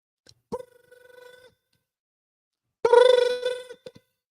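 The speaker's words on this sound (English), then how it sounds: "The phone rung 6:30 in the morning" A house telephone bell rings as a sound effect, with two separate bursts of loud, close, metallic ringing and a pause of silence between them.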